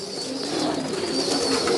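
Large, long-bodied Tomprang high-flying pigeon cooing up close in a soft, steady, low murmuring tone over a faint background hiss.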